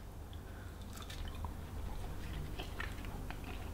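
Close, soft chewing of a Maxi Muscle salted caramel protein bar with crunchy bits on top: moist, squishy bites with faint crackles, recorded near the mouth and steady, without talk.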